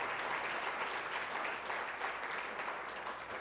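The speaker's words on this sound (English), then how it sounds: "Please join me in a round of applause to thank the students and sponsors." An audience applauds steadily, a dense patter of many hands clapping at even loudness throughout.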